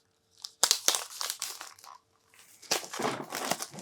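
Plastic wrap on board game player boards being cut and pulled open with scissors, with close crinkling, snipping and crunching bursts in two loud bouts separated by a short pause.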